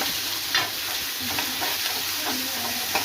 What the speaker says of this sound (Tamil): இப்போ வெங்காயம், தக்காளி நல்லா வதங்கிடுச்சு